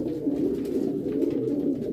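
Homing pigeons cooing inside a nesting loft, a low, continuous throaty burble from several birds close by, with no voices.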